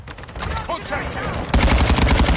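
Close, loud automatic weapon fire in a Call of Duty multiplayer match on the Shipment map, bursts rattling continuously and intensifying into heavier sustained fire in the second half.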